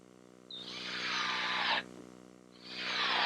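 A power driver sinks 1¼-inch galvanized screws into the wooden roof framing of a gazebo, with two sustained high whining runs separated by a short pause, loud and close.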